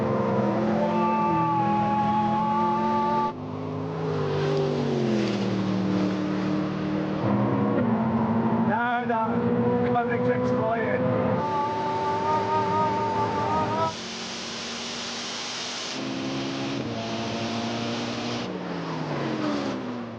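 A Koenigsegg Regera pulls hard in a rolling race, its engine note climbing steadily and loudly over about twenty seconds, rising in pitch with brief dips and surges.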